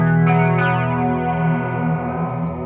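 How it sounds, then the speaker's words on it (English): Electric guitar run through an envelope-controlled flanger pedal, where the envelope sets the flanger rate: sustained harmonic notes with a sweeping, swirling comb-filtered shimmer that changes speed as they decay, loud and alone. "The right side of it is a flanger that is envelope controlled, that the envelope controls the rate of the flanger."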